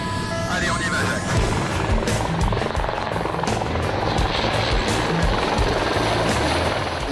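A helicopter roars steadily overhead, its loud, continuous rotor thrum dominating, while a voice can be heard faintly beneath it.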